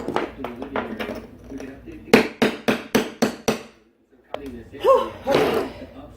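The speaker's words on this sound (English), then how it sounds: "you have to take the hammer to that side" A hammer strikes a loose ceramic floor tile in a quick run of seven loud, evenly spaced blows, with talking and shuffling before and after.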